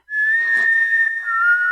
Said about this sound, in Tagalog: Parang pamilyar sa akin yung sipol na yun.